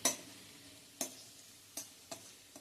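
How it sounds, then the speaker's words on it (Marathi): Green capsicum sautéed with cabbage in a pan over medium flame, heard as four soft, evenly spaced spatula scrapes against a faint, quiet background. "प्रत्येक भाजी वेगळी घालायची, थोडीशी परतून घ्यायची, त्याचा कच्चेपणा गेला की पुढची भाजी घालायची."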